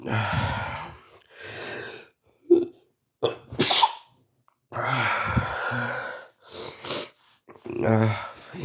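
A couple of sharp sneezes burst out between breathy gasps and sighs, close to the listener, with pauses of near silence in between.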